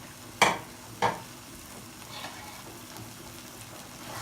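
A spoon scrapes and stirs cooked potatoes with sauce and herbs in a pot, with two sharp knocks early on and then soft, continuous stirring and faint sizzling.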